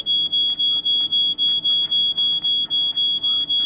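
Shrill electronic alarm ringing in the game She Could Fly, a steady high-pitched tone pulsing in rapid even beats throughout, loud and alone.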